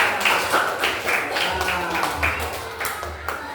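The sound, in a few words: group clapping hands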